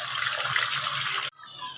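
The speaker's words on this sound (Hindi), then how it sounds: "एक साइड से फ्राई हो चुकी है।" Fish fries in a pan, one side already cooked, giving a loud, close, steady sizzling hiss that cuts off abruptly partway through and is followed by a much quieter crackle.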